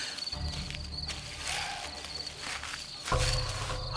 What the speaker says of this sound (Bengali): অনেকক্ষণ ঝিঝি পোকার ডাক ছাড়া আর কিছু শুনতে পাইনি